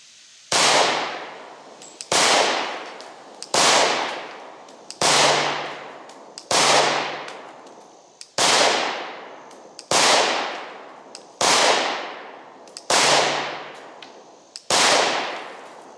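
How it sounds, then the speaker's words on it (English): Ten sharp .40 Smith & Wesson pistol shots strike bulletproof glass, each a loud crack with a ringing decay, spaced about one and a half seconds apart in a steady, deliberate rhythm. "All right, 15 rounds of 40 Smith & Wesson."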